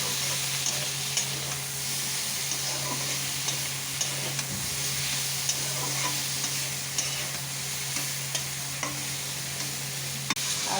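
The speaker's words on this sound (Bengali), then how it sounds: "আদা রসুনের পেস্ট দিয়ে দিচ্ছি, আর একটু নাড়াচাড়া করে নেবো।" Spices with ginger-garlic paste and dried red chilli powder sizzle steadily in hot oil, a dense continuous frying hiss with faint scattered stirring clicks throughout, no voices.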